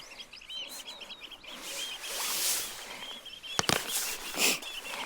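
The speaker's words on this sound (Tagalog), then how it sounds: "Ang ganda naman ng huni ng mga ibon." Birds chirp and trill outdoors on a coastal Norwegian shore, faint repeated calls over soft rustling and scraping, with a couple of sharp knocks near the end.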